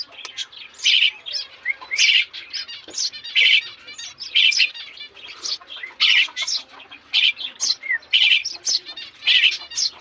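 Nestling sparrow chicks beg for food with rapid, high-pitched chirps in repeated bursts, close and clear, with no talking.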